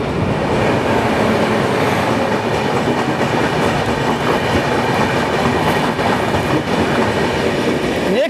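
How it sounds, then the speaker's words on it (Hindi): The Sachkhand Express crosses a passenger train with a loud, close, continuous rumble and rattling clickety-clack of wheels on the rails, sustained from start to finish. "पूरे जर्नी के दौरान की ये हमारी तीसरी क्रॉसिंग है सचखंड के साथ।"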